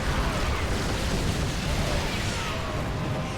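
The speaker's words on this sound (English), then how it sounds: "The cannons are exchanged. The first volley goes to Wolfgar." Yamato cannon volley traded between battlecruisers in StarCraft II, a dense continuous blast of explosive rumble and crackling energy that holds steady and loud for several seconds without any break.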